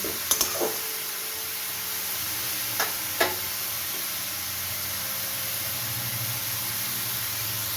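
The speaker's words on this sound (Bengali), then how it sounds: "পেঁয়াজটাকে নেড়ে নেড়ে খুব ভালো করে ভেজে নিতে হবে যাতে একটুও কাঁচা গন্ধ না থাকে" Onions sizzling in a pan over a medium gas flame while being stirred, a soft steady hiss with a few brief clicks and scrapes of the spatula, close and fairly quiet.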